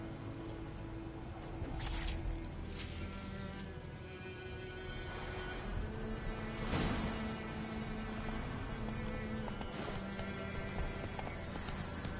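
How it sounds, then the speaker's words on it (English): Horse hooves clip-clop steadily in The Witcher 3, a continuous rhythmic trot under game music and ambience, with occasional louder bursts of movement and a faint whinny. "I'll ready our horses."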